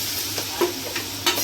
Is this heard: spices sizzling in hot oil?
yes